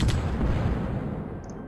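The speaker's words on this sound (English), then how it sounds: "Okay, another artillery." Artillery fire in the strategy video game World Conqueror 3, a single loud booming shot at the very start that fades into a rumbling tail.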